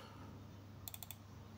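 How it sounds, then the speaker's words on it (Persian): Short burst of about four crisp keystrokes on a computer keyboard, typing a time into a field of Hikvision CCTV playback software, close and fairly quiet over a steady low room hum. "هم میتونم تایپ بکنم"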